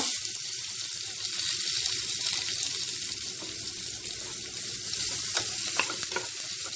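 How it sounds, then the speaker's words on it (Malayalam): Grated coconut and cashews roasting in a pan for Malabar stuffed banana filling, with a steady close sizzle and scraping stir strokes throughout, no talk. "തേങ്ങ ചേർത്ത് നന്നായി ഇളക്കിക്കൊണ്ടിരിക്കുക."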